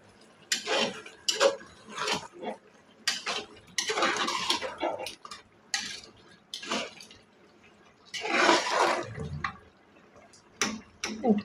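Spoon stirring a chicken biryani mixture in a pot, irregular bursts of scraping and clinking with wet mushy churning, close by, separated by brief quiet pauses.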